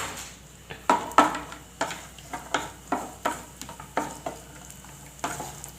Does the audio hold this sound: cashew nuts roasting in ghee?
yes